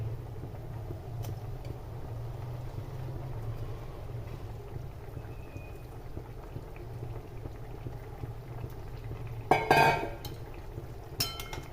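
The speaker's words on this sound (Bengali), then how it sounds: "এই যে ঝোলটা ভালো করে উতলে গেছে আমার" Curry broth for a surmai fish mustard dish bubbling in a pot, a steady low seething simmer that runs throughout, with a brief clatter near the end.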